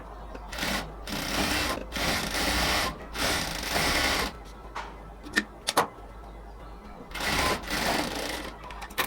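A sewing machine stitches lace onto a cotton salwar in repeated bursts of rapid whirring, some short, some a second or more long, with brief pauses and small clicks between runs, close by.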